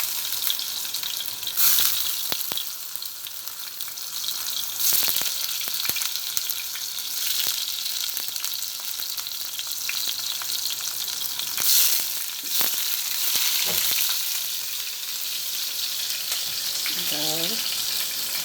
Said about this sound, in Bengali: তেল গরম হয়ে গেছে, দিয়ে দেবো। আগে বেগুন ভেজে নেব